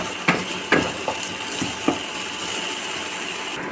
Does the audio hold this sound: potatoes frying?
yes